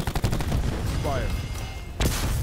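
Gunfire in a Call of Duty Black Ops match: a few quick bursts of rapid shots up front, a short lull with game sounds, then another sharp burst near the end. Game voice lines mix in with the shots.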